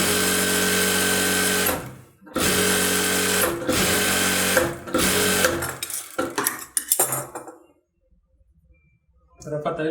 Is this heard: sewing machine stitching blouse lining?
yes